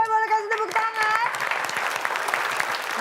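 A studio audience on an Indonesian television game show breaks into loud, sustained applause, starting as a host's voice trails off and continuing as dense clapping to the end.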